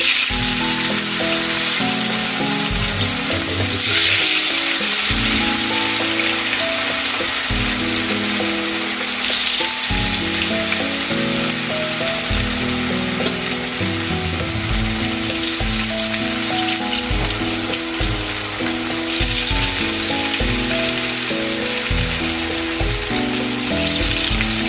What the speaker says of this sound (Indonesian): Lalu si tempe tadi ya digorengnya.